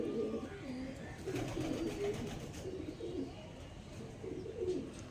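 Pigeons at a bird sale coo repeatedly in soft, rolling low calls, several birds overlapping at close range over a steady background hum.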